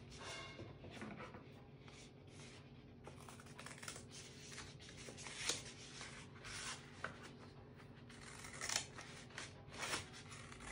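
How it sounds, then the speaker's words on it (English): Scissors cut down the center of a paper Möbius strip, producing a steady run of faint, close snipping and rustling paper sounds with no talking. "we are going to cut it in the center"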